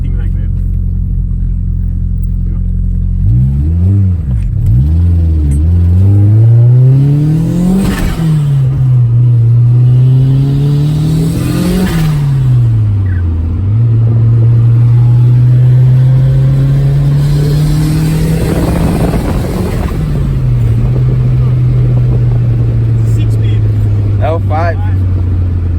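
A Toyota MR2 with a 3SGTE turbo engine accelerating through several gears, engine pitch rising and falling with each shift, loud and close inside the car while people talk over it.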